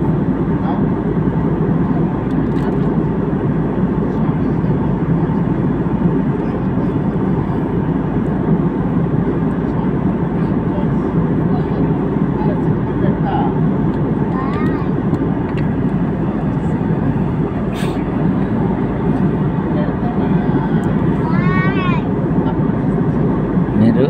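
Steady roar of airplane cabin noise on a flight from Ayodhya to Shamshabad, loud and constant engine and air rush close around, with occasional voices talking faintly underneath.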